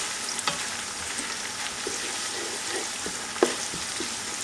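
Onions fry in a pot for a vegetable stew, giving a close, continuous sizzle. Faint clicks and scrapes of stirring are scattered through it, and a sharper knock comes near the end.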